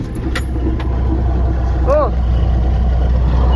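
An old engine runs steadily right after starting, giving a loud, even low rumble that fills the whole stretch. A voice briefly exclaims over it.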